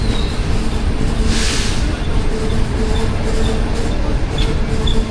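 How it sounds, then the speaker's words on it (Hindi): The Allama Iqbal Express pulls into a Pakistani station, a loud, steady rail rumble with the rolling noise of wagons holding constant throughout. "10 डाउन आ रही है जी अल्लामा इकबाल एक्सप्रेस।"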